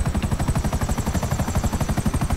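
A helicopter flown during a CEO VIP Headhunter mission in GTA 5 Online on PC, a Buzzard, gives off a steady, rapid rotor chop with a thumping low pulse and engine whine, loud and continuous without talk.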